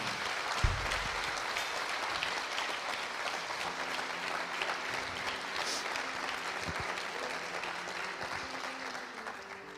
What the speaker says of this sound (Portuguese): Você podia aplaudir ao Senhor?